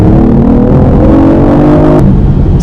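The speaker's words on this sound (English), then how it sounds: "So from a standstill, a little bit of gas, and we're open." A BMW i8 hybrid sports car pulls away from a standstill, a loud close engine drone rising steadily in pitch, with a brief sharp burst near the end and no one talking.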